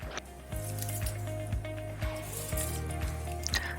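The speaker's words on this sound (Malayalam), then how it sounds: "ഇതിലേക്ക് നമ്മൾ 2 മണിക്കൂർ കുറച്ച് വെള്ളം ഒഴിച്ചൊന്ന് കുതിർക്കാൻ വെക്കാം." Water poured over biryani rice in a bowl to soak, a close wet pour with squishy splashes and a faint electrical hum running underneath.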